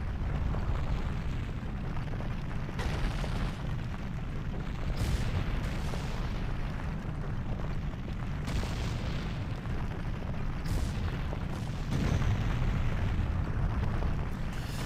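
A castle explodes and collapses in Ocarina of Time 3D, a continuous low rumbling roar with heavy booming bursts recurring every few seconds, steady and dense throughout.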